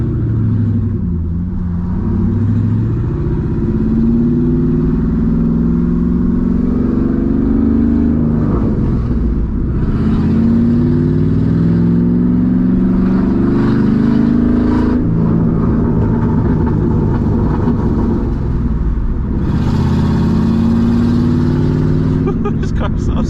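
A loud, deep-throated straight-piped 2007 Mustang GT engine rumbles and revs repeatedly, rising and falling in pitch, with pops and downshifts and some talking over it.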